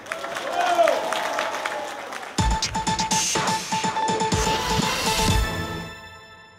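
Audience applause at a local event in Cattenom, beginning about midway as a dense burst of clapping with some tonal chimes alongside, after an opening stretch of voices and background sound, then tapering off at the end.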